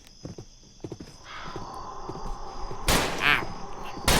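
A horse gives a brief whinny right after a sharp, loud warning gunshot; faint clopping and scattered thumps come earlier, with no talking.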